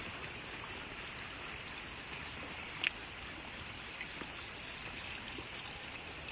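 Water steadily trickles and flows into a drying rice paddy in Hyogo, Japan, a continuous soft wash of running water with no talk, close and even throughout.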